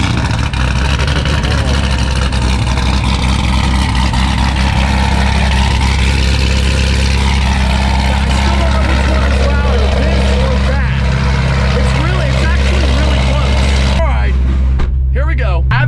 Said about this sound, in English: Good news is you get to hear the ZR1 startup.